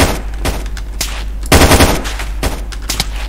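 Enemy gunfire in a combat video game comes as dense, loud bursts of rapid automatic shots, several volleys rattling close by over a steady low rumble, with no voices over them.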